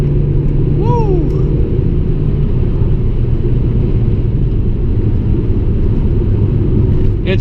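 A 2001 Audi S3 8L with four-wheel drive is driven hard around a banked corner, its engine a loud steady roar heard from inside the cabin throughout, with a brief higher whine rising and falling early on.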